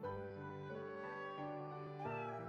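A cartoon cat meows in Professor Layton vs Phoenix Wright, a drawn-out, tuneful call over a steady layer of game music, fairly quiet and close.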